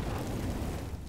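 A grenade explodes in Counter-Strike: Global Offensive, a loud, rumbling burst filling the short moment with no voices over it.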